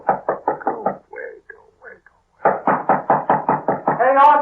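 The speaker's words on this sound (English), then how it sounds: "Just going to let him knock." Sharp knocks rap on a door in a dramatized radio play: a quick run of about five raps, a short pause with scattered softer sounds, then another steady series of about six knocks, close and loud, ending in a brief rattle.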